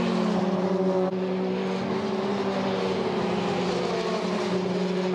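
Formula 3 race cars at speed on a European F3 circuit, a steady engine drone with sustained tonal whine held throughout, fairly loud and continuous with no talk.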